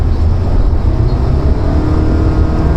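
A 2022 Honda City e:HEV hybrid sedan with its 1.5 petrol engine pulling under full throttle, heard as a steady, loud low drone of engine and road noise from inside the cabin.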